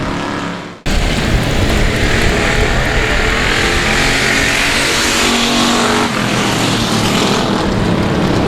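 Race cars at a South Texas Nationals qualifying night roar loudly after a sudden cut-in, a sustained, dense engine blare from a pack of cars at full throttle, with a slight dip and shift in pitch near the end.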